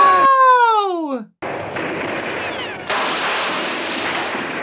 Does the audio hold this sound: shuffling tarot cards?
no